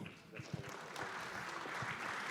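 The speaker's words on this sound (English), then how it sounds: "Please, a big hand of applause for U.S. Congressman Kevin Brady" Audience applause for U.S. Congressman Kevin Brady at a policy event on the U.S.–Colombia free trade agreement, a steady wash of clapping from a seated crowd, moderately distant and building slightly toward the end.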